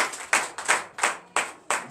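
A church congregation at a Sunday service in Benin claps in unison, five or six sharp, evenly spaced claps in a steady rhythm, close and clear with no talking.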